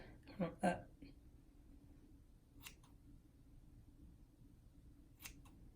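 Scissors snip a child's hair close up while cutting bangs at an angle: two quick cuts in a row, then two more single snips spaced apart, against a quiet room.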